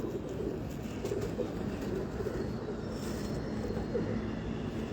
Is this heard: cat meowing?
no